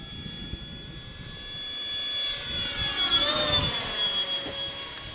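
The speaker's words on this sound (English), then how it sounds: "I really like that F-18." An RC F/A-18E Super Hornet model jet flies past on an evening flight, its steady turbine whine and rushing roar rising slightly in the middle and holding fairly close, with no talk.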